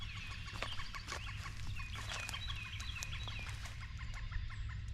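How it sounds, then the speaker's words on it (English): An odd bird call sounds in a backyard garden in spring: a quick series of chirping, clucking notes over a steady low background rumble, fairly faint throughout. "That is a weird bird sound."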